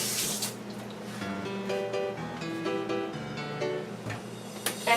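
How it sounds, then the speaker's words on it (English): Tap water runs steadily into a kitchen sink while hands are rinsed during home cooking, a continuous close splashing hiss with small shifts in tone as the flow is disturbed. "Rinse my hands a little."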